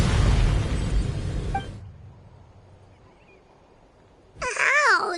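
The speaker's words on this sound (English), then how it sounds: "You were all caught in the shockwave of the explosion." A loud magical explosion from a stone's runaway power, a heavy roaring blast that fades into near silence before a second burst of noise swells back up, with a warbling tonal sweep layered in.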